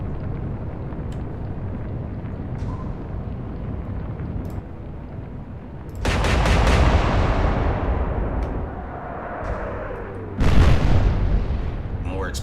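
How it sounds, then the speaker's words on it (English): Explosions and gunfire from the Atlantic Fleet naval combat game boom in heavy bursts over a continuous rumble, with two loud blasts standing out and a voice talking underneath. "More explosions, always nice."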